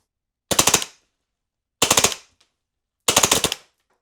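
An airsoft submachine gun, a Battlefield 6 replica, fires three short, loud bursts of rapid, evenly spaced shots, each burst lasting about half a second with brief silences between.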